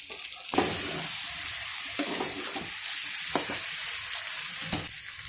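Eggplant masala (baingan masala) sizzles steadily in a hot pan as it fries and steams, a close, continuous hiss broken by a few sharp clinks of a utensil, with no talking.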